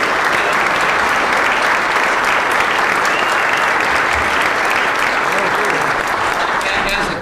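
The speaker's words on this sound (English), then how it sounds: "Give her a round of applause." An audience at a Dominion Club event gives a loud, continuous round of applause for a speaker's wife, dense clapping holding steady throughout and tapering only at the very end.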